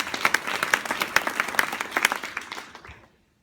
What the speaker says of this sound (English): Can we give Martin a round of applause?